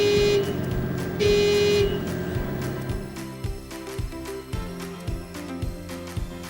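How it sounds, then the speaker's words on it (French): Horn of a construction crane, sounded with the top button on the right joystick of the operator controls: two loud, sustained honks, followed by a run of rhythmic mechanical clicks and thumps. "Testez le klaxon en appuyant sur le bouton haut du joystick de droite."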